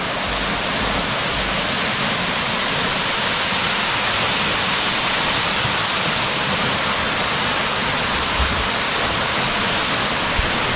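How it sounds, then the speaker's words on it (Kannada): A waterfall on a hilltop at Baba Budan Giri in Chikkamagaluru roars as a steady, dense wash of rushing water, loud and unbroken throughout with no voices. "ಅಲ್ಲೋಡಿ ಅದು ವಾಟರ್ ಹೇಗೆ ಬರ್ತಾ ಇದೆ ಮೇಲಿಂದ"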